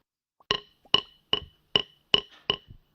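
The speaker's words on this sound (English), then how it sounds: "this is the sound of drumsticks" Six sharp wooden clicks of drumsticks struck together in a steady, evenly spaced rhythm, close and crisp, with silence between each strike.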